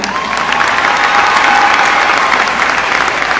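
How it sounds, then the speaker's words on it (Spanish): Loud sustained audience applause at a high school graduation ceremony, an even wash of many hands clapping in a large hall with faint cheering mixed in. "un fuerte aplauso para Keila Mariela Ramos Moya"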